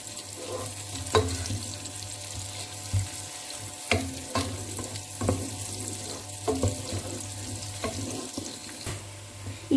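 Onions sizzling in a frying pan while being stirred, a steady crackling fry with irregular scraping knocks of the utensil against the pan, close and alone.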